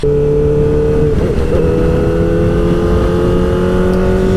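A 2024 Kawasaki ZX-4RR four-cylinder motorcycle engine, close and loud, runs steadily and then rises in pitch as it accelerates, its revs climbing through a sustained mechanical whine with no talk.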